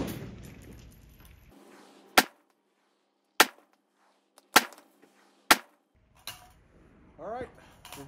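Four sharp rifle shots fired at targets 300 yards down range, evenly spaced about a second apart, loud and near against a quiet outdoor background, with brief noise before and after.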